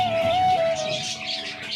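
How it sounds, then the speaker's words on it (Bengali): A dove gives a short, soft call, a single drawn-out cooing note heard close and fairly clear over a faint background. "এই দেখেন ঘুঘু পাখি।"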